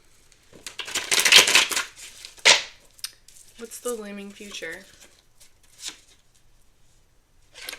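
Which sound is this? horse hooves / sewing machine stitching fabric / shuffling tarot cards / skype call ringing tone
shuffling tarot cards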